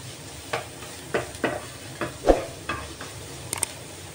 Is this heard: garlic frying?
yes